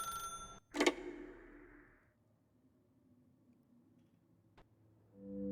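An old-style telephone bell rings in The Stanley Parable, one loud burst near the start that fades into a quiet room, followed by a single faint click later.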